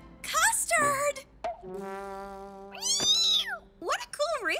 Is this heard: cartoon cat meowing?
yes